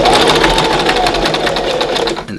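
A sewing machine runs steadily close by as it stitches the bottom hem of a simple fabric face mask, a loud, even mechanical whir with no talk.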